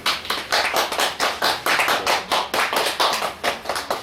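Steady applause from an audience at a residents' briefing on a neighborhood housing redevelopment project, dense clapping close by and without talk.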